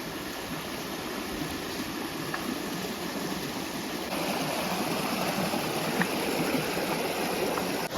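A river rushes steadily, a constant broad watery roar with no breaks, moderately loud and unaccompanied by voices.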